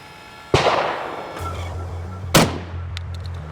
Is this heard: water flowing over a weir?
no